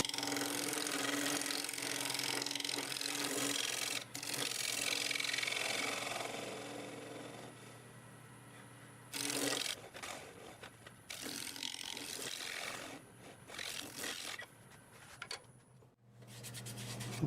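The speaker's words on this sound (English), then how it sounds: "let's go over it with the negative rake scraper and get it ready to sand" Negative rake scraper working a multi-axis wooden bowl spinning on a lathe, giving a steady close scraping and rubbing over a constant motor hum, with passes that stop and restart.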